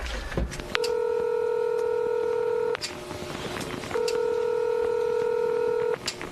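DTMF keypad tones from a telephone dialing the Bat Phone hotline at the Korean DMZ, two long steady dialing tones separated by a short gap with a few clicks, close and loud.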